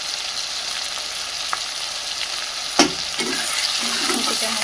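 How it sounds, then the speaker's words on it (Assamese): Masala with ginger garlic paste and tomato fries in a pan for jackfruit curry, giving a steady, close sizzle with a few sharp stirring clicks. "গতিকে মছলাখিনি ধুনীয়াকৈ ভাজি লৈ ল'ম"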